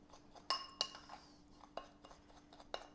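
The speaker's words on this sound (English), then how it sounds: "Mix those ingredients together till everything is well mixed." A few sharp, quiet clinks of a utensil against a bowl as sugar, cinnamon and salt are mixed together, spaced irregularly over a faint steady hum, with no voices.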